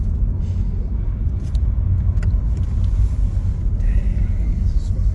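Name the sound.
1985 Pontiac Fiero GT V6 car running and driving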